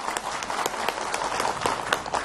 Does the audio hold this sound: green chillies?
no